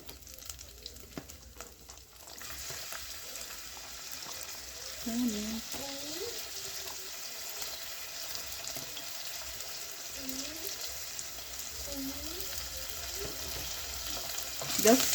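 Chopped onion sizzles in a pan for a banana flower stew, a steady frying hiss with occasional stirring, and a voice speaks over it in places.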